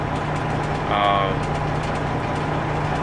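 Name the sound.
day cab truck engine idling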